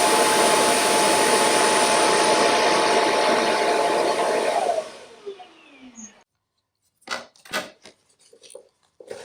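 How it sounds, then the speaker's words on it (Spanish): A robot vacuum's docking station auto-empties: a loud, steady whooshing suction motor runs for several seconds, then winds down to silence, followed by a few soft clicks and thumps. "El vaciado se hace de forma automática una vez que la aspiradora regrese al tanque"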